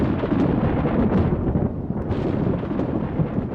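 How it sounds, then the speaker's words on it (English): Thunder from a lightning storm over the Everglades rolls on without a break, a deep, loud, continuous rumble that swells and fades slightly and carries no voices. "A good-sized storm here can produce 25 cloud-to-ground strikes in the space of 10"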